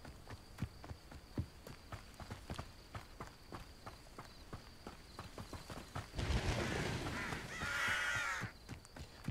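Crows cawing in Hogwarts Legacy, a few harsh calls late in the scene over a steady rhythm of hoof clip-clops or footsteps that run throughout.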